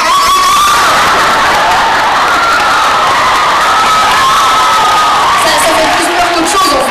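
Riders on an amusement park thrill ride scream and shout together, a loud, close, sustained crowd roar of overlapping cries with rising and falling pitch.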